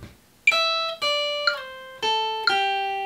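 Measure 8 of a guitar tab played backwards on guitar: five plucked notes with slides between them. Each note sustains cleanly into the next in a slow, even rhythm.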